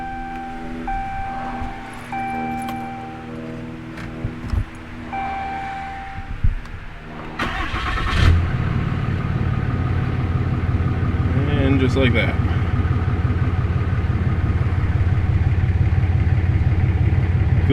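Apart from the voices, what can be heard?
2016 Cummins 3500 diesel truck engine starting and idling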